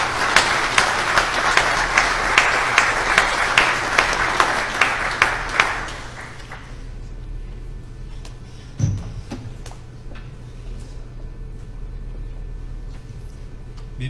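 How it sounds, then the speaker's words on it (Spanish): An audience at a talk on historical risk management in Baja California Sur applauds to welcome a speaker, with steady clapping for about six seconds that then stops abruptly, leaving quiet room tone and a single thump. "recibamos con un fuerte aplauso"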